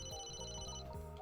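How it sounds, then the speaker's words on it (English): Phone ringing in the video game Famicom Detective Club: a bright electronic ring tone with repeated short pulses over steady synth tones, clear and close with no speech. "Oh, I'm getting a phone call."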